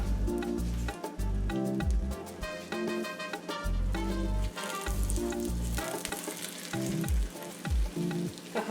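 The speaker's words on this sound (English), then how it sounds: "So I'm just gonna add my egg. We're just gonna let it cook." A single egg fries in a hot pan while Ghanaian bulgur wheat angwamu is made, giving a steady, loud sizzle with bursts of crackle that runs unbroken, with no talk over it.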